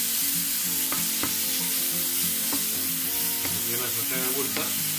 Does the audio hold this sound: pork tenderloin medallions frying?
yes